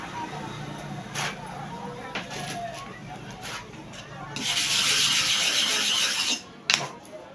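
A clipper blade is worked to and fro on a sharpening stone, giving soft scraping rubs close by, with a louder sustained grinding stretch near the end; a voice talks over part of it.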